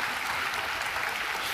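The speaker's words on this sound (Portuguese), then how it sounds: "pode aplaudir ao Senhor Jesus" A church congregation applauds at a gospel service, giving a steady wash of clapping that holds even throughout with no voices above it.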